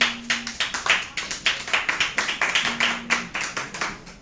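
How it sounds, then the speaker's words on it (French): A small audience claps for a guest at a French-language nature talk, the separate hand claps sharp and close in an uneven patter, with a faint steady hum underneath. "Sous vos applaudissements,"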